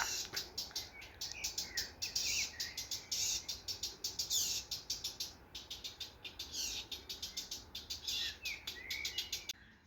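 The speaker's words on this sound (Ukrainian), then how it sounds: "Що це за пташка?" Birds chirp steadily in rapid repeated trills and tweets, fairly close, over a soft outdoor background with no talking.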